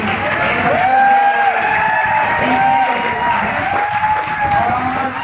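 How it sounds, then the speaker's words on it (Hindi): Audience applause and cheering fill a hall at a motivational class gathering in Jaipur, a loud, steady crowd clapping with whoops rising over it, while a voice speaks through the noise. "बहुत जोरदार ताली।"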